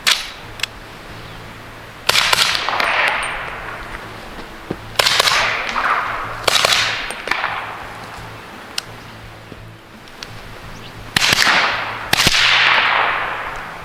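Suppressed gunshots from a Shaolin Rifleworks 300 BLK carbine, about half a dozen sharp cracks spaced a few seconds apart, each trailing off into a hissing decay, with fainter ticks in between.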